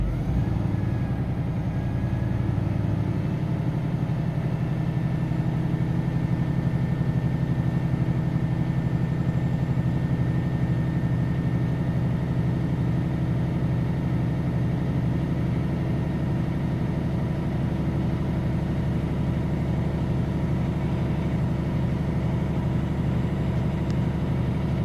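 A truck diesel engine held at steady raised revs while building air brake pressure during a CDL brake test, a continuous loud low rumble with a faint whine above it, running alone for the whole stretch.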